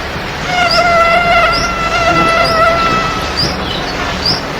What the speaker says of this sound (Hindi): सिर्फ उड़ने के लिए ही नहीं, मच्छर प्रजनन क्रिया के लिए भी ऐसी आवाज निकालते हैं।